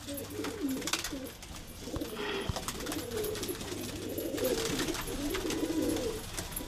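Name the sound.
pigeons cooing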